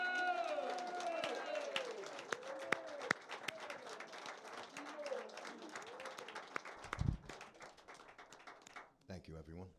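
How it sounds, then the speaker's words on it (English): An audience at a live music show applauds for singer Anthony DiDio, a dense sustained wash of clapping and crowd noise that fades toward the end, where a voice begins speaking. "Ladies and gentlemen, big round of applause,"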